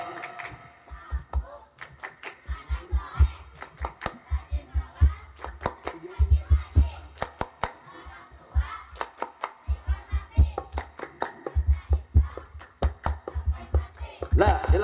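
Children clap in a quick, steady rhythm during a group chant at an Isra Mi'raj religious talk. Bursts of clapping mix with chanting voices over about fifteen seconds.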